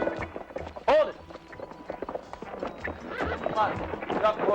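A horse whinnies sharply near the start, with hoofbeats and shuffling under overlapping voices and general commotion.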